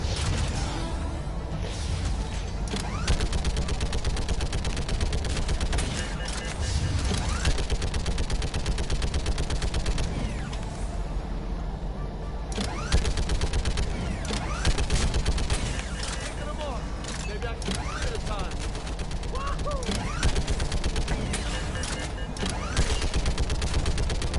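Sustained rapid gunfire from a mounted gun in Mass Effect 3, dense loud bursts rattling almost without pause, with brief lulls and speech mixed in under the shooting.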